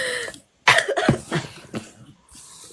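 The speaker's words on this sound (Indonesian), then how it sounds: "masih batuk-batuk" A person coughs in a few sharp, harsh bursts near the microphone during a live stream, then trails off into quieter breathy noise.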